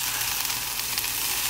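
Jackfruit with garlic and onions sizzling in a pan over low heat, a steady, close frying hiss that carries on evenly without any talk.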